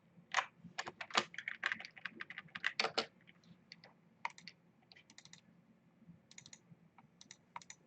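Typing on a computer keyboard while entering text into a design page: quick irregular bursts of close, crisp key clicks, busier at first and then sparser with short pauses, with no voices.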